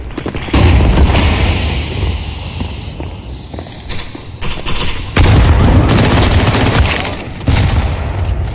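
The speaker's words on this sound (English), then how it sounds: "Deploying flashbang." A flashbang grenade bursts in the Counter-Strike 2 video game amid loud, close gunfire and heavy booms, with several sharp blasts spread across the stretch over constant in-game noise.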